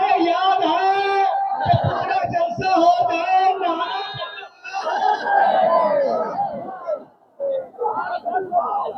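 A large crowd at a religious gathering loudly chanting slogans in unison, rhythmic massed voices rising and falling close and full, with short pauses between calls.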